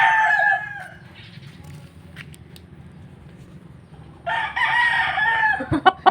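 A bantam rooster crows twice, nearby and loud, a shrill drawn-out call, then a pause with faint background noise, then another long crow.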